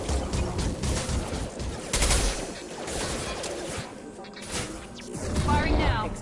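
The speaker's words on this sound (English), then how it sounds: "Firing now." Mass Effect 2 weapons firing in rapid bursts and clattering volleys, with sharp impacts and a whoosh near the end, dense and close throughout.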